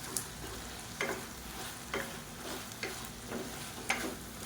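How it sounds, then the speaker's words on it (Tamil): A spoon stirs a handful of coriander leaves into brinjal and tomato chutney sautéing in a pan, giving soft sizzling with regular scraping strokes about once a second, close and fairly quiet. "இதில் ஒரு கை அளவுக்கு கொத்தமல்லியில் சேர்த்துக்கலாம். சேர்த்துட்டு லேசாக ஒரு பரட்டிக்கலாம்."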